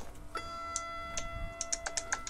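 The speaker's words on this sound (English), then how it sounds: "Is that, like, a clock?" A clock ticking in a video game, heard as a run of sharp, regular ticks over a faint steady hum, quickening toward the end, with no talk.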